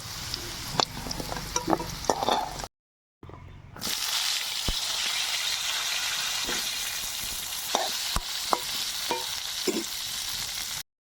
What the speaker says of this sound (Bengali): এবার পটল ভেজে নেব